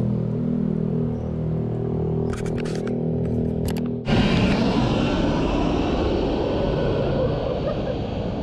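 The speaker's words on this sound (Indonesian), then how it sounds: "30 menit baru satu pesawat yang lewat." A fixed-wing airplane in the PUBG game passes overhead, its engine drone building from a steady hum into a loud, broad roar that swells suddenly midway and stays close and dominant to the end, with a few faint clicks earlier.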